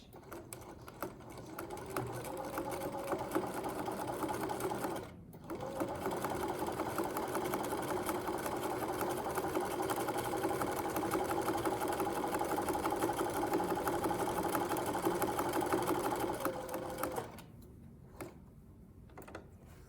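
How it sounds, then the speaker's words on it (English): Sewing machine back stitching a lapped zipper: a steady, close mechanical whir runs for about five seconds, stops briefly, then resumes continuously for roughly twelve seconds before cutting off near the end. "A regular stitch, and I'm going to back stitch."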